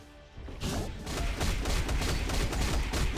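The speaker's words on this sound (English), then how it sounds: "the 5 like it instantly does some of those gunshots" Rapid bursts of gunfire from a character's attack in the mobile game Marvel Future Fight, a dense run of sharp shots over about three seconds, loud and close with a booming low end and no talking.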